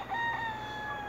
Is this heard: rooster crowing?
yes